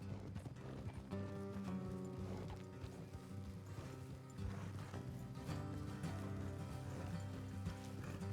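Steady clopping of horse hooves in the video game Red Dead Redemption 2, under a dense bed of music and ambient sound, rhythmic and continuous throughout.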